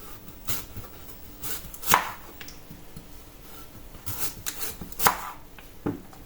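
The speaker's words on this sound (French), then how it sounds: "On peut les faire à la mandoline. Voilà, il faut faire des tranches fines comme ça." Raw potatoes being sliced into thin rounds on a mandoline, several quick crisp slicing strokes at irregular intervals, close and fairly soft, with no talking.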